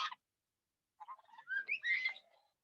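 A parrot at a wildlife rescue ranch whistles a short series of warbling, rising and falling notes, preceded by a brief squeaky chirp, in an otherwise quiet space.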